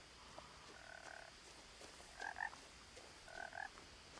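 A frog croaks in the forest of the game What Remains of Edith Finch, three short buzzy calls spaced apart over a quiet ambient background.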